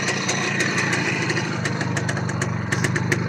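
A motor scooter or small motorcycle engine with a newly installed carburetor idles steadily and smoothly up close, a continuous low putter with faint periodic ticks and no voices.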